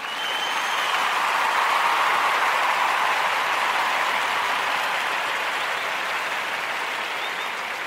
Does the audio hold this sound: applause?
yes